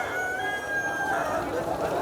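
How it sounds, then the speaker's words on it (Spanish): A rooster crows in a drawn-out call over a busy, noisy outdoor background in Varanasi, India, heard at moderate distance. "Y ven, y pueden escuchar los gallos."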